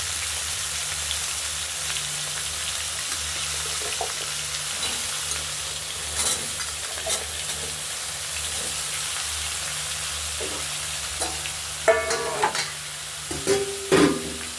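Vegetables for a vegetarian Malabar spinach curry frying in a pan after a cumin tempering, a steady close sizzle running throughout, with occasional scraping stirs growing more frequent toward the end.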